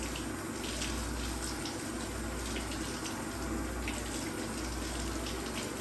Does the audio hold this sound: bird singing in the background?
no